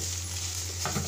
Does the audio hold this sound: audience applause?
no